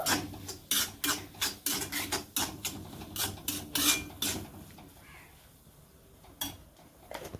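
Chicken being mixed with chilli powder and chicken masala in a pot, a series of rhythmic rasping scrapes of a spoon against the metal, close and fairly loud, then trailing off into quieter stirring.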